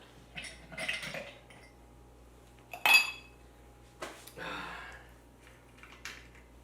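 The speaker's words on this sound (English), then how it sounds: "Ice cubes." Ice cubes clinking into glasses while bourbon is poured, a few separate bright clinks and rattles spread across the clip, fairly close and moderately loud, with no talk over them.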